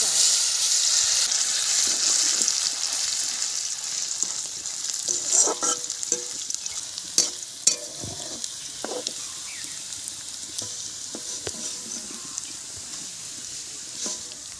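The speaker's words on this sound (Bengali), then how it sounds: "ওই তেলের মধ্যে দিয়ে দিচ্ছি গোবিন্দভোগ চাল।" Gobindobhog rice fries in oil in a wok, a close, steady sizzle that fades a little over time, broken by scraping stirs and clinks of the spatula.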